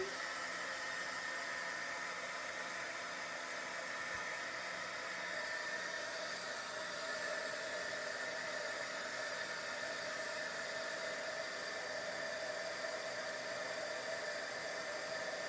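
Heat gun blowing hot air in a steady, unbroken whooshing roar, faint and continuous throughout with no talking.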